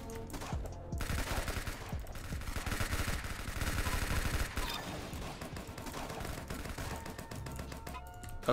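Rapid automatic gunfire from a weapon in the online shooter game Arsenal, dense and sustained for several seconds, loud and continuous with game effects layered in.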